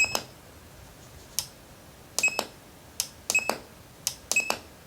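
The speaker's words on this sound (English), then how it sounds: "It sounds like it's got a relay in it." A radio's built-in relay clicks in a few sharp, close bursts, some doubled, separated by short quiet gaps, alongside faint electronic beeps.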